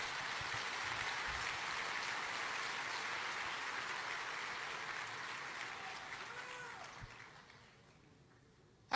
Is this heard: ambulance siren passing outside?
no